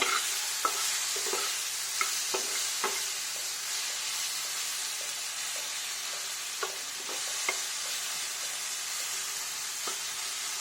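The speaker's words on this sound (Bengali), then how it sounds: "রসুন আর কটা শুকনো লঙ্কা নিয়ে নিয়েছি এগুলোকে কড়াইয়ে অল্প সর্ষের তেল দিয়ে নাড়িয়ে নেব" Garlic, tomato and dried red chillies stirred in a little mustard oil in a kadai, a constant bright sizzle punctuated by repeated soft spoon taps and scrapes, close and unaccompanied by talk.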